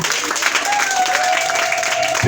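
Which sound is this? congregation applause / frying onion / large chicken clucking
congregation applause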